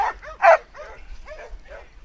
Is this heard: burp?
no